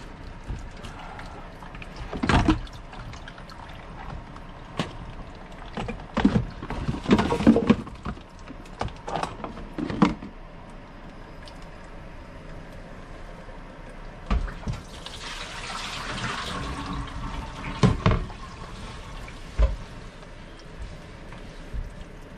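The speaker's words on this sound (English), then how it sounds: "have to empty your water bucket out again" Water sloshes and pours out of a bucket in bursts during a kitchen faucet replacement, with clattering handling noises and a longer gushing pour partway through.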